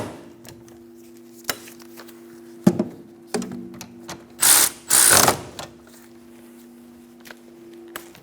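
Ratchet tightening the rear brake caliper bolts on a 2003-2007 Honda Accord: scattered sharp clicks, then two loud bursts of rapid ratcheting close by, over a steady low hum.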